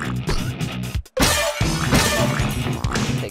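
Glass shatters loudly in the video game Slayers X: Terminal Aftermath, a sharp crash after a brief gap, with dense game noise and music continuing around it.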